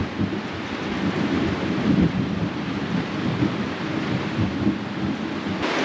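Heavy rain pouring at a campground with rumbling thunder rolling underneath, a loud continuous downpour with some wind buffeting close to the microphone and no talking.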